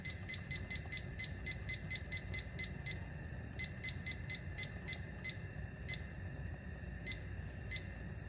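A kitchen timer being set during vegan seafood gumbo cooking gives a rapid series of crisp high beeps, first evenly spaced, then sparser and irregular, close and clear over a soft background hiss.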